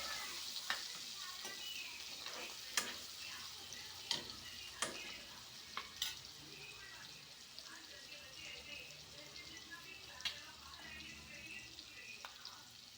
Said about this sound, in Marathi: छान फिरून घेऊया आपण।